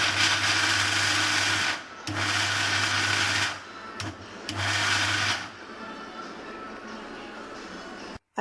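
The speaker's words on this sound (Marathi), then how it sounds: "परत झाकण लावून परत मिक्सर फिरवायचं." Mixer grinder blending coconut pieces, a loud steady motor whir in several bursts of one to two seconds with short pauses between, then quieter after the last burst.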